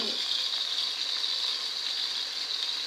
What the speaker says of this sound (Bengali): পেঁয়াজ আর মরিচগুলো দিয়ে দিতেছে ভালো করে ভেজে নেব